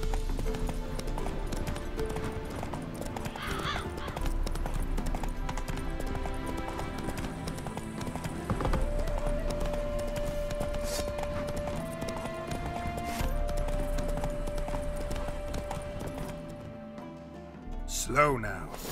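Roach, a horse in The Witcher 3, clip-clops along at a steady hoofbeat rhythm, set against game music and a speaking voice, with a brief whoosh near the end.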